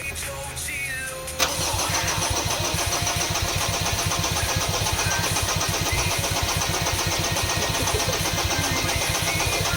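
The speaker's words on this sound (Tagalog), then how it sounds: "engine start" A Ford Ranger 2.2 engine cranks steadily without catching, a loud, rhythmic starter churn running continuously right up close after a brief opening of background noise.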